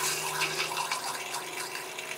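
Water runs steadily into an Airstream RV toilet bowl, a constant soft hiss and gurgle heard up close with no voices.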